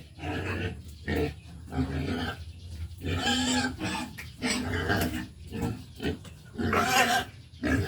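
Pet pigs grunt and snort in irregular bursts close by, the rough calls coming one after another with short pauses between them and no clear talking over them.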